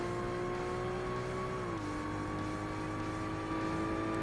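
Race car engine in Forza Motorsport, an upgraded-tyre-less quick car holding a high, steady whine that drops briefly with a gear change, then settles into a constant strained drone, loud and alone.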